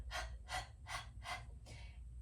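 Rapid detoxing breath exercise, quick panting breaths like a dog, four sharp bursts in an even rhythm followed by a softer fifth, close and clear over a low steady hum, no talking.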